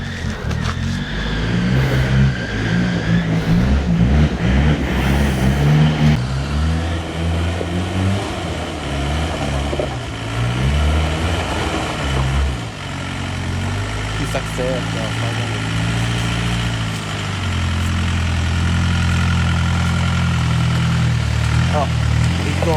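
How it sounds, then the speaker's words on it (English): A 4x4 vehicle's engine on a mountain track runs loud and close, revving and labouring in shifting swells throughout, with people talking over it. "We got this vehicle out of it and we are back on the way."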